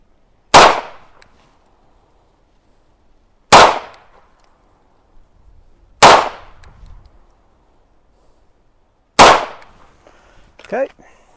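Four loud, sharp pistol shots from a Smith & Wesson M&P 2.0 Compact with a 3.6-inch barrel, fired at about 3 yards on a range, spaced a few seconds apart with short decays between.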